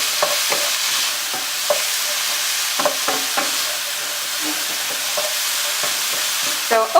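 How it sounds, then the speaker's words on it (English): Diced sweet potato frying in a hot pan while being stirred, a continuous sizzle broken by repeated scraping and clacking strokes of the spoon, close and fairly loud. "I kind of just don't want it to burn, so that's why I keep mixing."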